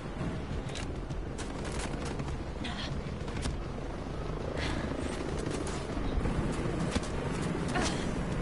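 An enemy helicopter in a PS4 shooter thrums steadily in the background of the battle, with scattered sharp impacts and gunfire cracks and no talk.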